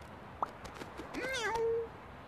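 A person imitates a cat with a few short vocal meows, close and clear, each rising and falling like a real cat's call.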